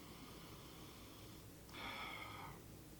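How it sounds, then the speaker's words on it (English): A single short, close nasal sniff at a can of craft beer, a quiet breathy inhale in an otherwise hushed room. "I'm going to go ahead and give it a sniff."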